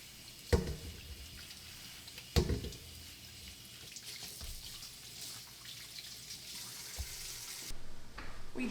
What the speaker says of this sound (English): So let's get these tomatoes washed.